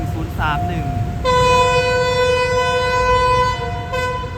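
A battery-electric locomotive arrives hauling a special test train of Thai State Railway passenger coaches, sounding its horn: a brief toot, then a long, loud, sustained blast over the rumble of the train, and another short toot at the end.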